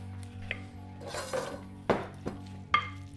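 A utensil clatters and scrapes in a pan while mixing wilting greens and pancetta, giving several distinct knocks and clinks over a low steady hum.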